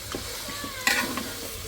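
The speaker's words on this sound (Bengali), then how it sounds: "মাছটা একদম কড়া কড়া ভাজা হয়ে গেছে" Fish frying crisp in a pan with diced potato nearby, a steady close sizzle with a few stirring scrapes and one brighter crackling burst partway through.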